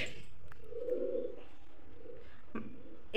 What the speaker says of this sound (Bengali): এই পায়রা ঢুকে গেছে।